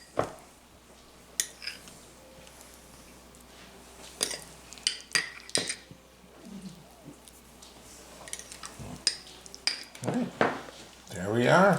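Metal cutlery clinks and clatters against dishes while a spoon is fetched in a home kitchen during taco casserole preparation, with sharp irregular clinks spread throughout and a louder rattle at the end.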